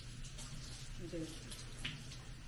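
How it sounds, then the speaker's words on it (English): Water running from a tap while a bag is rinsed, a steady soft splashing flow with a brief clink, fairly close and low in level. "rinse my bag."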